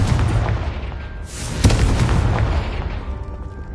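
A Confringo fire spell explodes in Hogwarts Legacy, a loud booming blast that rolls into a sustained roar with a sharp crack partway through, and no voices over it.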